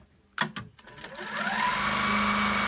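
Handi Quilter longarm quilting machine with magnetic channel locks, stitching straight lines: a few clicks and knocks, then the motor spins up into a steady, close, continuous hum and needle buzz.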